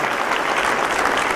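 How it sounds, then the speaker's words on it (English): A seated crowd at a business speech claps loudly and steadily, a dense wash of hands with no break in the short burst. "let's clap for them too"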